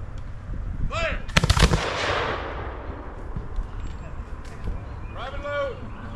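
A ragged volley of flintlock muskets fires a salute at a historical reenactment, a sharp cluster of loud cracks with a rolling echo behind it, and raised voices shout commands before and after.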